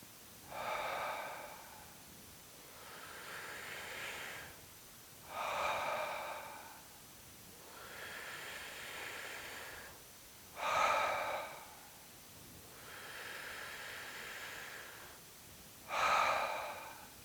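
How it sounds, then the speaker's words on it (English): Strong belly breathing, with inhales drawn through a straw and exhales blown out through the mouth, close and alone: four sharp breathy pulls alternate with longer, softer rushing breaths out in an even, slow rhythm. "I'll use the straw for the inhale and then exhale through my mouth."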